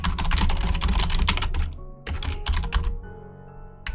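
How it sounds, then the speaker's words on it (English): A cheap, loud computer keyboard clacking under rapid typing, with dense bursts of keystrokes, a brief pause, then further irregular clicks close to the microphone. "I hope the keyboard noises aren't too annoying"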